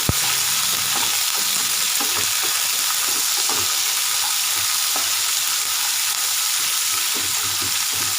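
Two medium onions fry in a pan for lemon rice, giving a dense, continuous close sizzle with faint scrapes of stirring throughout and no speech.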